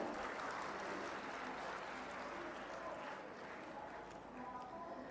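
An audience claps at a Gorakhpur festival stage event, a dense, steady wash of applause heard from some distance, fairly faint and continuing without a break.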